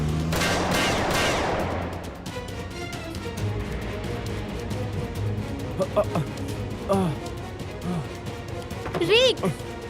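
Scattered sharp gunshot-like bangs ring out amid a loud, busy scene with shouting voices and dramatic music.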